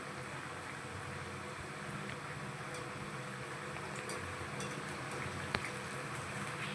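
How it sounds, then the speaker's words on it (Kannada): Aloo kababs frying in a pan, a steady even sizzle of hot oil held at a constant level throughout, with a faint tick or two and no talking. "ನೋಡಿ ಫ್ರೈ ಆಗ್ತಾ ಇದೆ"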